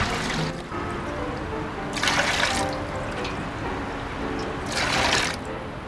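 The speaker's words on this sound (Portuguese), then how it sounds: "O parafuso vai puxando a água" Water from a replica of Leonardo da Vinci's water screw splashes and trickles into a container in bursts as the screw is turned, three louder pours rising over a steady background wash.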